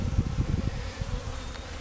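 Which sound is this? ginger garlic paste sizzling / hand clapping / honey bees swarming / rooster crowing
honey bees swarming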